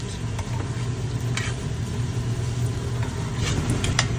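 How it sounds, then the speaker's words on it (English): Rice browning in oil in a pan gives a steady, close sizzle and crackle that runs the whole time, with a low constant hum beneath it and occasional brief scraping stirs. "You just want to put enough oil in to cover to wet your rice so that you can brown it"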